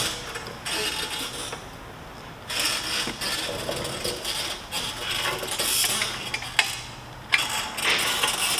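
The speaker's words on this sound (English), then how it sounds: "You want to get the ratchet and then tighten them up." A hand ratchet tightening the bolts on a front wheel makes repeated fast metallic clicking in short runs with brief pauses, close and fairly quiet, with no talk.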